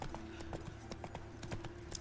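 Horse hooves clip-clopping in The Witcher 3 video game, a steady run of quiet, evenly spaced clops over a low ambient hum, with no talking.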